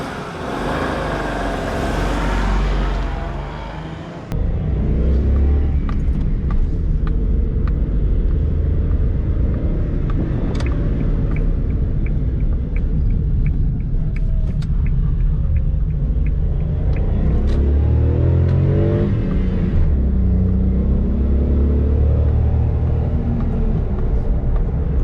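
A Suzuki Alto engine idling at operating temperature, a steady low rumble held close and loud throughout, with a brief shift in tone near the start and no talking.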